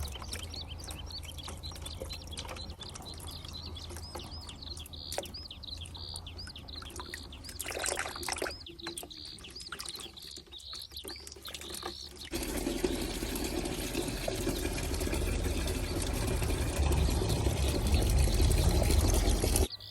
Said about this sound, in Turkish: Bu tarz hastalıklı ve çürüyen orkideleri dezenfekte etmeden önce mutlaka bol temiz su ile yıkamanız gerekiyor.